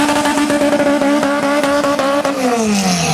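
Fiat X1/9 race car with a loud, high-revving engine screaming past on track at Slovakia Ring, steady rapid firing pulses, then pitch dropping as it lifts off.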